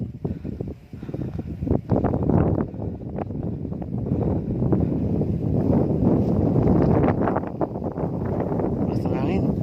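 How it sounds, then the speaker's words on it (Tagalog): Strong wind buffets the microphone outdoors, giving a constant rough rumble with gusty surges. People talk over it throughout. "Lakas ng hangin."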